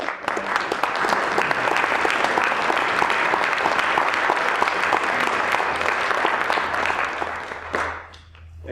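Sustained audience applause at the 2013 SOK opening ceremonies, dense even clapping from a large crowd lasting several seconds before fading out.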